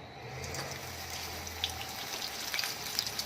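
Medu vada batter dropped into hot oil in a kadhai: a soft, steady sizzle and bubbling with scattered small pops and crackles, close but fairly quiet.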